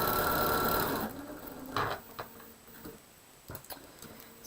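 A sewing machine stitching a seam on a quilt block, a rapid mechanical whir that stops after about a second, then scattered soft clicks and handling noises in a quiet room.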